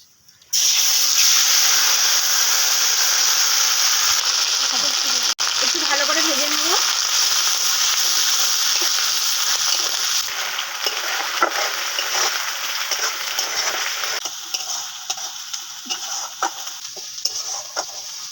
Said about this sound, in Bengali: এই তেলের মধ্যে গোটা জিরে দিয়ে দেব পেস্ট করে রেখেছিলাম দিয়ে দেবো